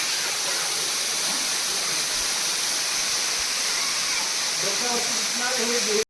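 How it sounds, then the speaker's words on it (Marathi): A waterfall at Tulshi village in the rainy season roars as a steady, dense wash of falling water, loud and unbroken throughout. "हो एक नंबर आहे तुळशी गावचा धबधबा"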